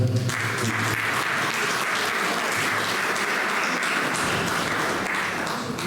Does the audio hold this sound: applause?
yes